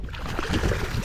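A hooked big flounder thrashes at the surface while fishing in Murrells Inlet, a brief close, loud burst of splashing water lasting about a second.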